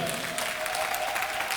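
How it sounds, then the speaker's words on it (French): A church congregation applauds together at a Wednesday worship service, producing dense, steady clapping throughout with a sustained tone running underneath. "Applaudissons pour le Seigneur."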